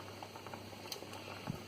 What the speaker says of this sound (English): I'm boiling some carrots and some potatoes